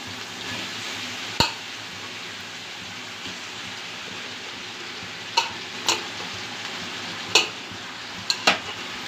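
Boiled, flaked shark meat stirred into sautéed onions in a pan for spicy shark puttu. Soft steady sizzle throughout, broken by a handful of sharp spoon clinks and scrapes, near and without talk.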